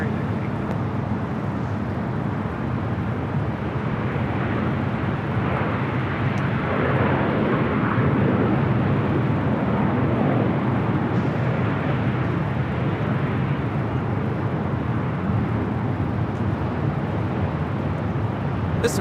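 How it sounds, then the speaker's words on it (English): Alaska Airlines Boeing 737-900ER landing at Los Angeles International Airport, a steady broad rumble of jet engines and rushing air that swells slightly midway, heard from a distance under faint background chatter. "This arrival is Alaska Airlines 695 coming in from Portland, Oregon on a 737-900ER."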